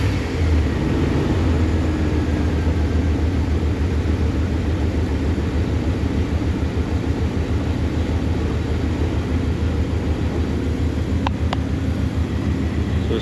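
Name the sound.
Dodge Ram 5.9L truck engine starting and idling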